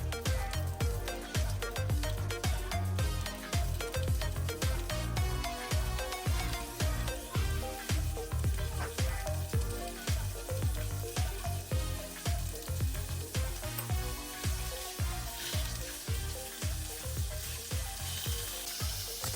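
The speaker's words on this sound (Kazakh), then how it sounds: "Енді балықтарымызды екі жағынан қызартып қуырып аламыз." Fish fried in oil on both sides until golden and crispy, giving a loud, steady sizzle with dense crackling and popping that continues without a break.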